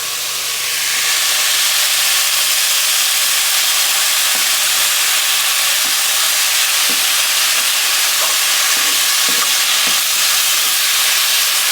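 Ground beef browns in a pot for a taco lasagna, giving a steady, loud frying hiss that runs throughout, with a few faint scrapes and taps from the spoon and no talking.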